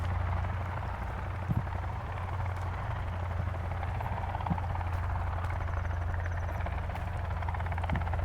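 Helicopter in a video game gives a steady, close whirring rotor drone with a low throbbing hum throughout, constant in level with faint sporadic clicks and no talking.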